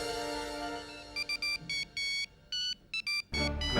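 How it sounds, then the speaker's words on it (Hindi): A phone ringtone sounds as a series of short electronic tone bursts in an irregular pattern over a low steady hum, ending in a louder burst of noise. "ऐसे ही फोन 2 बार और भी आ चुका है, पर कोई बोलता ही नहीं"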